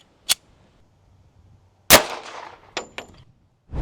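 A .45 ACP handgun fires into a row of pumpkins: a small sharp click, then one loud, close blast with a rough decaying tail, followed by two quick metallic clangs and another sharp onset at the end.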